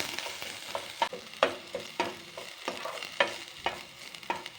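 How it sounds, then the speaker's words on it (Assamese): Onions frying in a little hot oil in a wok, a quiet background sizzle broken by regular scraping and tapping strokes of a stirring spoon, about two per second. "পিঁয়াজখিনি ভাজা হৈ গৈছে"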